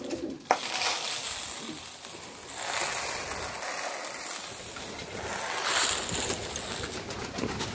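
Pigeons at feeding time coo and flutter in a steady low chorus with rustling and a sharp knock near the start, the birds close by.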